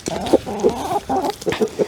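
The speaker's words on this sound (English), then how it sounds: "Other chickens coming too." Several chickens cluck in short, overlapping bursts close by, a hen among them, outdoors on a spring day with melting snow while being fed bread; no talking.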